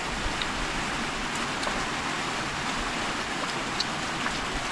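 Light, steady rain falls outdoors as an even, continuous patter with scattered droplet ticks throughout.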